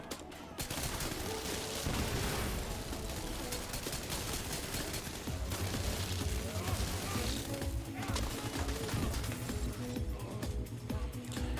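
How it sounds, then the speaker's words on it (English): Explosions and gunfire from an explosive skill build in The Division 2, a dense continuous roar of blasts, shots and crashes with steady music underneath. "Yeah, so the explosions are still really strong."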